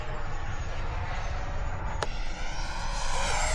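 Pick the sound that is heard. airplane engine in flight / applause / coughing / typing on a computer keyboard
airplane engine in flight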